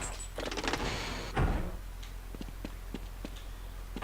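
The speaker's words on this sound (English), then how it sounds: "Security doors." Security doors operating on a video game map: a sliding whoosh and heavy thud, surrounded by a run of sharp mechanical ticks and clicks, moderately quiet, with no talking.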